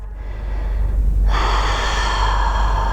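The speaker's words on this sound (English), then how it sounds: "We've just got one last breath." One long, deep breath drawn slowly in and let out during a gentle morning yoga flow, close and steady, carried over a continuous low hum.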